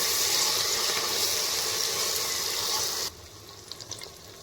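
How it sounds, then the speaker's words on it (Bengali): Ginger-garlic paste fries with golden-brown onions in a pan, giving a loud, dense sizzle that cuts off abruptly after about three seconds and leaves a few soft clicks and scrapes. "আদা রসুন বাটাটা ভালো করে নাড়িয়ে নেব যতক্ষণের কাঁচা গন্ধটা চলে যায়"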